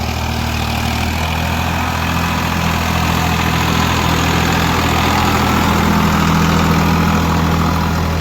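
A Farmtrac 60 Supermax tractor drags an MB plough deep through a sugarcane farmer's field in western Uttar Pradesh in third low gear, its diesel engine a loud, constant, low droning rumble with no break throughout.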